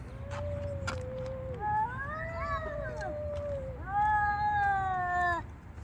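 A cat meows several times up close, drawn-out wavering calls with short pauses between them, as cats climb in and out of a pile of discarded household items, over a low background hum.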